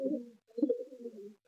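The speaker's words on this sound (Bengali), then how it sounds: "খুব ভালো পায়রা।" Madras Kalsira pigeon cooing in low, throaty phrases, two bursts separated by a short pause, close and fairly soft with no talk.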